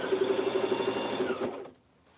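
A sewing machine stitches clothing for alterations, running in a steady fast whirring rhythm up close, then stopping abruptly near the end and leaving quiet.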